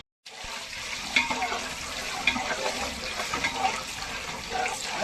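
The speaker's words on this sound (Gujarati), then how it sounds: "તો હવે આપણે ઊંધિયાનો વઘાર કરીએ છીએ" Mustard seeds hit hot oil in a large pot for a village-style undhiyu cooked for fifty people, starting suddenly into a steady crackling sizzle with scattered pops.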